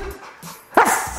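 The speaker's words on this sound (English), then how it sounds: "good barking." A dog gives a single sharp, loud bark close by, preceded by brief low whines and yips during training with a remote collar.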